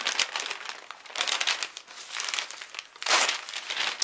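Paper crinkles and rustles continuously close by, with bursts of louder crumpling as a paper-wrapped package is torn open.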